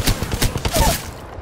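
Rapid bursts of an EVA-8 shotgun firing in Apex Legends, several sharp close blasts in quick rhythm over game noise.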